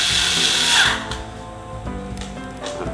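A power drill fitted with an Allen key attachment whines loudly at high speed for under a second, then winds down, leaving a softer whirring as parts of a PC case tower are assembled.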